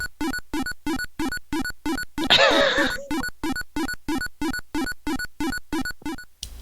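Sound effects from the video game Musha Musha: a rapid, evenly spaced series of short sharp electronic blips repeating about three times per second, interrupted once by a brief burst of noisy cacophony, loud and alone.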